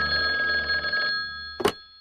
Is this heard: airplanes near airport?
no